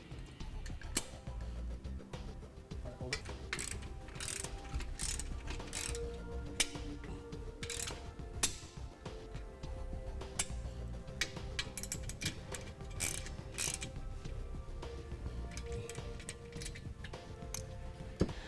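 A socket wrench ratchets steadily as brackets are tightened down on a BAKFlip G2 hard tonneau cover fitted to a 2014 Toyota Tundra, with dense, continuous clicking mechanical ticks close up and no talk.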